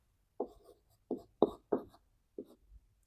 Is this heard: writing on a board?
yes